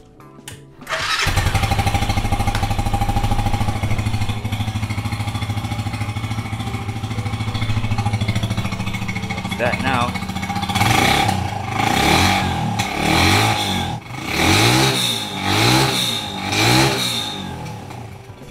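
A Bristol 250 motorcycle with its standard exhaust runs steadily and loud and close, then revs up and down in repeated swells toward the end, with a brief spoken word near the start.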